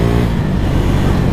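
A motorcycle gathers speed on the road, a steady, dense engine drone mixed with rushing wind noise, close and loud throughout, with no clear rise or gear change.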